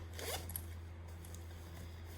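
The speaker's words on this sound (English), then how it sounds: "you can secure it with the zip" A zipper closes on a Vera Bradley Small Vera tote in the Rain Forest Canopy print, one short quiet zip near the start over a low steady hum, with no talking.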